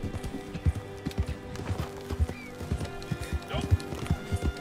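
A horse's hooves clip-clop in a steady galloping rhythm in Red Dead Online, loud and close, with a voice talking over it and brief game sounds in between.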